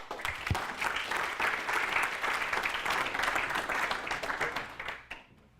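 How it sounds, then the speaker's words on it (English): An audience at an electric vehicle association general meeting breaks into a quick round of applause, dense even clapping from a roomful of people that runs steadily, then cuts off near the end. "quick round of applause"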